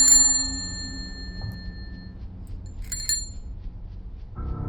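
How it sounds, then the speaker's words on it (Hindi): A bicycle bell rings in an animated horror story about a ghost postman, a bright metallic ding that rings out and slowly decays, followed by a second, fainter ring against quiet, eerie background tones. "साइकिल की घंटी की आवाज एक बार फिर से वहां पर गूंजने लग जाती है।"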